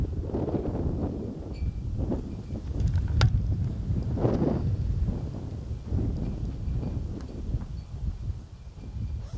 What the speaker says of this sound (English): And again, the wind blowing.